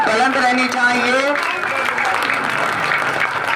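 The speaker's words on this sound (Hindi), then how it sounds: "आप जबरदस्त तालियों से सर का खैर मक़दम करें" Loud, continuous applause from a school audience welcoming a guest at a ceremony, steady clapping throughout, with a voice speaking over the first part.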